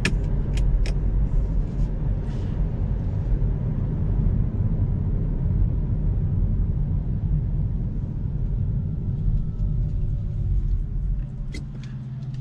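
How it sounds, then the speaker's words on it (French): A 2020 Kia e-Niro Premium electric car drives along a road, heard from inside a quiet, well-insulated cabin as a steady low rumble of tyres and road noise, with a few faint clicks near the start. "Alors par contre, la voiture est vraiment très silencieuse."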